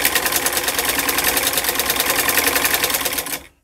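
An electric sewing machine stitching a suit runs in a fast, even clatter of needle strokes, loud and close for about three seconds before stopping abruptly.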